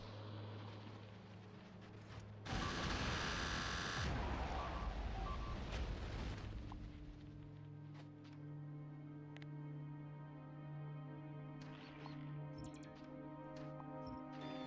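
Gun turrets opening fire in the factory-building game Factorio, a loud dense burst of rapid shots and impacts lasting a second or two, then fading into steady background game music.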